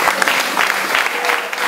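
A congregation in a Methodist church claps steadily and densely. The loud, continuous applause fills the whole short stretch.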